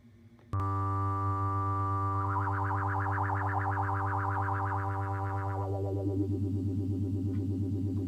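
An analog synthesizer note starts suddenly, then a bright warbling tone sweeps and bubbles above a steady low drone before sliding downward, with a slight echo.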